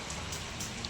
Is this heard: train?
no